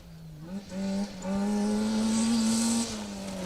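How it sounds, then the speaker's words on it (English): A Nissan Micra 1400 rally car on a forest special stage, its engine rising sharply and holding a loud, near, high-revving note for a couple of seconds before backing off as it passes. "I don't want to cover the noise of these glorious engines singing their way through the forests"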